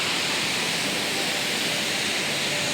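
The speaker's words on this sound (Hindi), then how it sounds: "पानी भी बह रहा है" Water rushes across a broken, landslide-damaged mountain road in monsoon season, a dense, constant roar of flowing water, close and loud with no other sound standing out.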